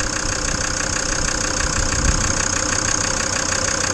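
A Volkswagen Crafter van with the 2.5 engine idles steadily and close by, a constant mechanical rumble with a faint rhythmic knock and no talking.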